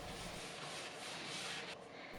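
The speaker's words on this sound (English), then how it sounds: "I do a really light sand with a 220 grit sanding sponge again" Steady, soft rubbing and scratching, a light sanding stroke with a 220-grit sanding sponge on painted wooden furniture, repeated continuously at close range with no talking.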